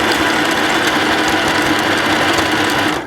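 Sewing machine running a zigzag stitch along a t-shirt's ribbed edge while making a dress, a close, loud, fast continuous mechanical whir and rattle that stays steady for a few seconds before stopping.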